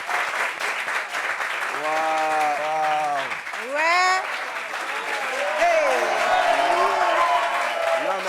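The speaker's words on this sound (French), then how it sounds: "On applaudit pour elle." Studio audience applause on a French TV talk show as a plus-size model guest is welcomed, a steady wash of clapping with lively voices and exclamations talking over it throughout.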